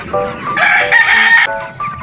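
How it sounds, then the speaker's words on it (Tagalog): A rooster crows loudly and close, one full drawn-out cock-a-doodle-doo rising and falling over about a second and a half. "Kami nga po pala ay kukuha ni Master ng 2 manok Korean"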